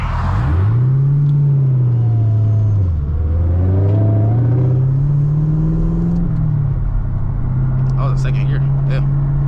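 A Camaro ZL1 with a six-speed manual accelerates hard from inside the cabin, its engine rumbling loudly as revs climb, dip at a gear change and climb again, with a steady whine and brief talk from the driver.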